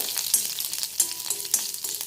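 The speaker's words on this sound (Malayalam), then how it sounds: "ഇനി ഇതിൽ എണ്ണ ചൂടായിട്ടുണ്ട് ബോളായിട്ടുള്ള കുരുമുളകിടാം കറിവേപ്പില ഇട്ടു" Black pepper balls and curry leaves frying in hot oil for a Pongal dish, a steady close sizzle with a few sharper crackling bursts spaced through, no voices.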